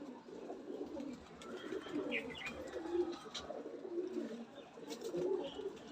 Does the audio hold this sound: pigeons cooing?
yes